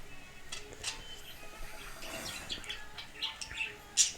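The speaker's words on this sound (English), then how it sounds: "my birds chirping in the background" Pet birds chirp faintly in the background of an indoor room, giving scattered short high tweets over a quiet backdrop, with a sharper chirp near the end.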